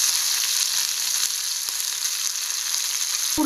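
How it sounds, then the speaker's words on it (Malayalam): Curry leaves sizzle in hot oil just after dried chillies, part of tempering for Kerala-style mango pulissery; a steady, bright crackling hiss runs close and loud throughout, with a few faint pops and a knock at the end. "ഉണക്കമുളകിൻ്റെ പുറകെ തന്നെ നമുക്ക് വേപ്പിലിടാം,"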